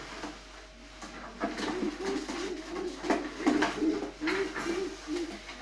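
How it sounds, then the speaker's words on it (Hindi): A pigeon coos repeatedly nearby, a run of low, throaty, rolling coos over faint background noise. "तो ये कबूतर है"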